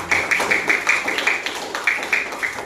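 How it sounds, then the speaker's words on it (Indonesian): A sixth-grade class claps together in a patterned rhythm, loud and close, with short groups of claps in an even, repeating beat. "aplaus dulu untuk kita semuanya"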